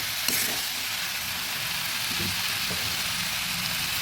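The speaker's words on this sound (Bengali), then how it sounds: "সমস্ত আলু সিম এবং টমেটোগুলো দিয়ে দিলাম ভালোভাবে নেড়ে দেব" Potatoes, broad beans and tomatoes fry in a pan with a dense, steady sizzle like rain, while soft stirring knocks sound under it.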